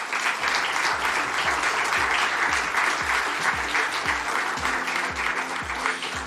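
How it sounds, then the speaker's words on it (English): A conference audience gives sustained, dense applause to welcome panelists onto the stage at a tourism panel, with a faint low rhythmic thumping beneath the clapping. "let us welcome them with a warm applause"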